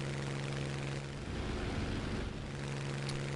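A Hawker Typhoon Mk 1b's engine runs at max throttle in a steep climb in a flight combat game, a constant droning roar with a steady low tone that dips briefly midway, heard alone.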